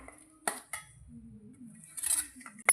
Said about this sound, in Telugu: మిర్చిని ఈ విధంగా వేసుకొని మనం నెమ్మదిగా దంచుకోవాలి.